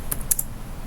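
A few quick keystrokes tap on a computer keyboard, light clicks spaced over under a second, close and fairly faint.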